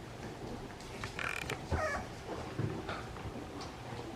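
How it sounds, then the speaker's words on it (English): French Bulldog puppies push through a doggy door to go outside, producing a few short creaks and knocks amid faint puppy whimpers and yips, fairly quiet against a low background hum. "they're working on using the doggy door, going outside"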